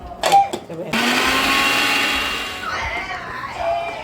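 A mixer grinder blends green masala paste for kala chicken, starting after a few short clatters and running as a loud steady whir that shifts pitch as it slows, with a voice briefly audible near the start.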